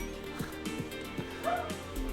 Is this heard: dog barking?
yes